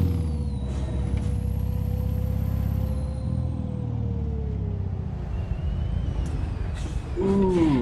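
Truck air brakes from American Truck Simulator, a gliding hiss tone over steady low engine rumble for several seconds, then a short bright burst near the end.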